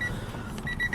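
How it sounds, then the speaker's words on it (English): Warning chime of a 1993 Acura Integra LS Special Edition, a Honda-built car, sounding with the door open: a steady repeating electronic tone, fairly clear over low cabin rumble. "The good old Honda chime."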